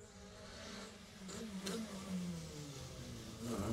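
The rally car of Simon Chapman and Neil Coleman in the Jersey Rally revs and accelerates at a distance, a faint, rising engine note with shifting pitch heard on its own.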